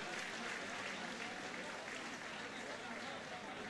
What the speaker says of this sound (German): Und schon wieder fordere ich den Respekt und den Applaus ein für beide Kämpfer.